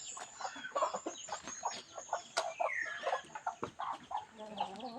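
Chickens cluck steadily in a farmyard during morning feeding, a dense flock of close, overlapping clucks and squawks with no one talking.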